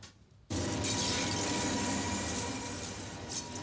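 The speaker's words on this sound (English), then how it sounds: "And the train keeps rolling on." A train rolls along the tracks near Panama City, Florida, starting abruptly and holding a loud, steady rumble and rattle that stays close and continuous with no talk.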